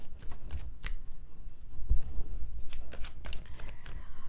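Tarot cards being shuffled by hand during a reading to draw clarifier cards, giving soft papery riffles and taps in irregular bursts, close and fairly quiet, with no talking.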